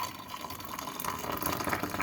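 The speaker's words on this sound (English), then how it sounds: "Time to pour the hot water in now." Hot water pours into a mug for a cup of tea in a home kitchen, a soft, quiet, continuous liquid splash with a faint trickle and no talking.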